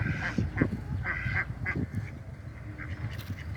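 Male and female domestic ducks call near by in a series of quacks, some louder and harsher, others smaller and raspier, coming in short irregular bursts with no talk over them.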